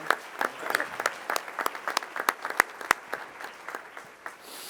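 Moderate applause at a school board meeting for a scholarship recipient, with individual claps clearly separated and a few sharper, louder hand claps standing out, gradually thinning toward the end.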